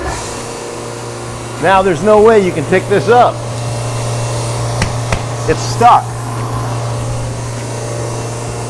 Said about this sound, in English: The beauty of a powerful vacuum table